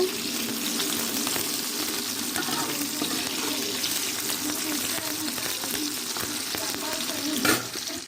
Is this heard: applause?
no